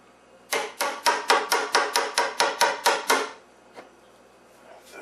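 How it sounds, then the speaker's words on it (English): A large flat chisel is struck about a dozen times in quick, even succession to pry off a glued part during a National TV-7W restoration, sharp close metallic whacks followed by quiet. "I switched to this large flat chisel. And make a few more whacks, and it's going to be off."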